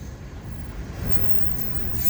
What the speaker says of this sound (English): the train's pulling out